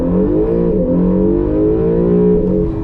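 An Acura NSX at full throttle from a standstill, heard from inside the cabin: a loud, steady engine roar climbs smoothly in pitch for a few seconds without a break, and no voices are heard.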